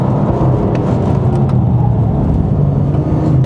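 A 2019 BMW F87 M2 Competition engine roars steadily as the car accelerates at high speed, a loud, continuous low drone heard from inside with no talking.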